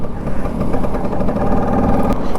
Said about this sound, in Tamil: அந்த 2 ஸ்ட்ரோக்கோட சவுண்டு வேறு லெவலில் இருக்குது